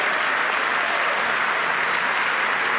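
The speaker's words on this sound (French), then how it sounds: "Donc gros applaudissements pour Michael" Audience in a hall clapping for Michael at a Brexit support evening, a dense, even stretch of applause held at a constant level throughout, no talk over it.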